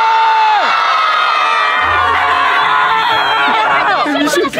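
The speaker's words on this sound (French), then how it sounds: "On crie tous un bon coup si vous voulez à 3" A group of young people shouts together at full volume on a count of three, a dense, loud burst of crowd cheering and whooping that fills the clip, with voices breaking through the roar.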